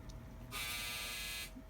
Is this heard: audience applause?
no